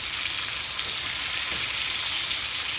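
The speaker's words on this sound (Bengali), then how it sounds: "আজকে সরিষার তেল দিয়ে ফ্রাই করতেছি" Fish fries in mustard oil with a loud, dense, continuous sizzle heard up close and unbroken for a few seconds.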